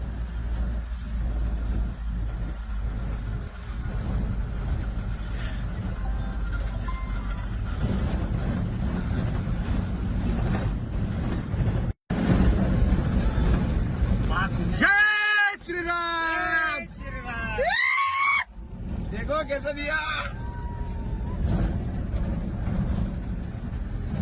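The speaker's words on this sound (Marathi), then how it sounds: "हे बघा बिना टायराची गाडी पळवतो अक्षरशः बघा" A car driven on bare rims without tyres rolls along a dusty road, a steady rumbling roar with wind buffeting and someone talking over it, louder in passing bursts.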